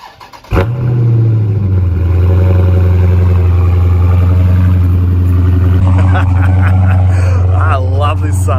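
A 2016 Dodge Charger SRT engine fires up with a sudden burst, then settles into a loud, deep, steady idle rumble close by, with a voice speaking over it toward the end.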